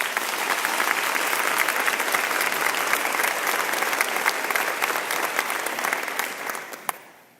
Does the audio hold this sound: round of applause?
yes